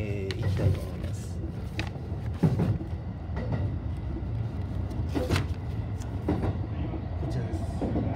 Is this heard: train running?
yes